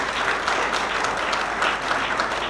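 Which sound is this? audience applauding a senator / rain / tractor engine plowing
audience applauding a senator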